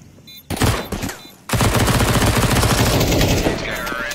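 Gunshots in Counter-Strike 2, a few sharp shots up front followed by a sustained, loud burst of automatic fire with a fast, steady rattle that fades slightly near the end.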